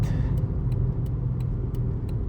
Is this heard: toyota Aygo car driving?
yes